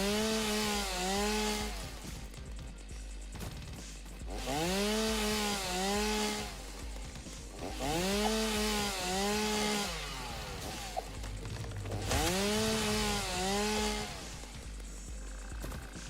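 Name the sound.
chainsaw cutting wood in the video game Satisfactory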